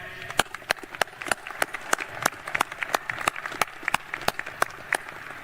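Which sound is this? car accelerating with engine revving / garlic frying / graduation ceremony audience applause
graduation ceremony audience applause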